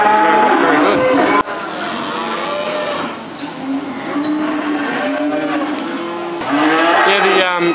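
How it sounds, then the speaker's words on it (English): Cattle lowing as young steers are unloaded at a store cattle sale in Bairnsdale, with several loud, drawn-out moos overlapping one another close by and a brief sharp knock early on. "now a lot of little steers, two people are unloading younger stock"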